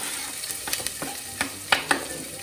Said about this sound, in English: So I'm putting in my garlic and onions.